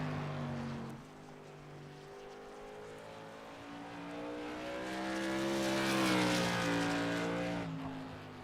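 A modified race car roars past on a qualifying lap at Myrtle Beach, its engine note climbing and swelling to a loud peak near the middle before easing off, a steady harmonic drone with no voices.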